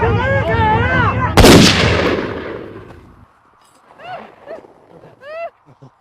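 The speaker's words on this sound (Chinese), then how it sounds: "你开枪好啊！" A single loud gunshot cracks through a tense film scene, cutting across a shouting crowd, then fades as scattered voices cry out afterward.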